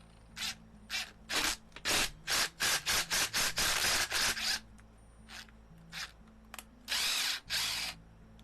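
A power drill whirs in a series of short bursts, then a longer run, with brief pauses between; close and fairly loud.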